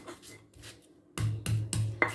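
A small batch of seasoning, including shallots, is ground with a mortar and pestle for a beef and potato stew, heard as faint scraping followed by three or four louder, evenly spaced thuds and grinds nearby.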